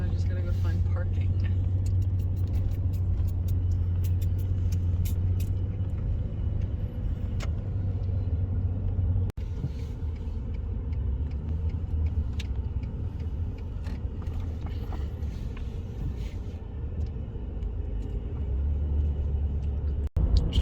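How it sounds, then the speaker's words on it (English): Steady, loud road rumble inside an RV cruising through Colorado, a continuous low drone with rattles and faint jingling throughout, no voices clearly heard. "Just driving through Colorado"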